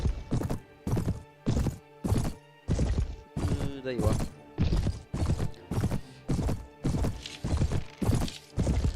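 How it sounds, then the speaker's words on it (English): Horse hooves clip-clopping in a steady gallop rhythm in the medieval combat game Mount and Blade, loud and close, with a brief whinny in the middle and a short spoken line over it. "Hey, I actually got a horse."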